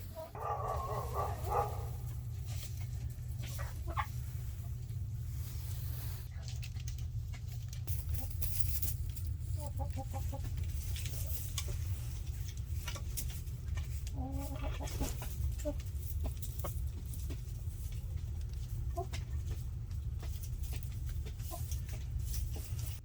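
Chickens cluck and murmur steadily inside a coop, with occasional louder squawks over a constant low hum.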